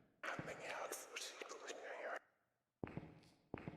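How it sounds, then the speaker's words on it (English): Ghost whisper in Phasmophobia, a breathy hushed whispering burst lasting about two seconds, then silence and a few sharp taps afterward. "That was a whisper."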